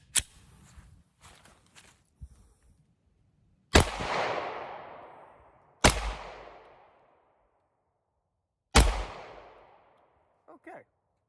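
Several sharp, loud gunshots from a Bear Creek Arsenal Grizzly firearm aimed at a target, each one cracking and then ringing off into a long decaying tail, spaced a couple of seconds apart after some quieter handling noise.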